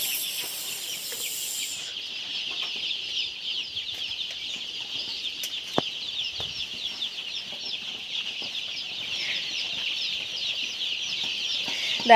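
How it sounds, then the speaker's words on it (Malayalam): A dense crowd of young chicks on a poultry farm peep continuously, a high, steady chorus of overlapping chirps filling the whole stretch with no voices heard. "നമ്മുടെ കോഴിക്കുട്ടീസ്."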